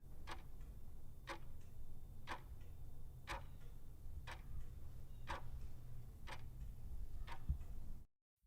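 Wall clock ticking slowly and steadily, about one faint tick per second in a quiet room, alone with no voices until it cuts off at the end.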